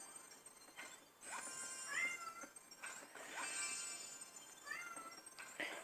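A house cat meows repeatedly, several rising calls spread across the stretch, fairly close and clear over quiet room noise with no talk.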